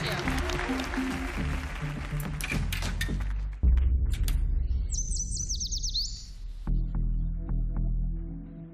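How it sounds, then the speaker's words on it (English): Yellow warbler song played in a television studio, one short, bright, rapid warbling phrase of about a second, heard over crowd noise, clattering sounds and people talking. "It's a yellow warbler."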